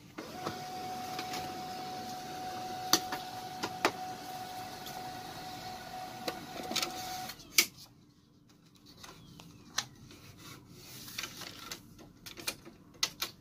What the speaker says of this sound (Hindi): अभी मैं आपको चालू करके प्रिंटर की क्वालिटी भी चेक करवाता हूँ